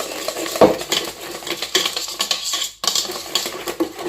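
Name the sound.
whisking pizza dough ingredients with a whisk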